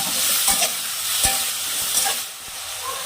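Chopped tomato frying with onions in a pan for a bhangra fish curry, giving a dense, steady close sizzle with a few soft stirring knocks and scrapes and no voices.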